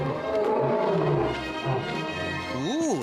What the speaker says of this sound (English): Ooh, there's a pretty roar.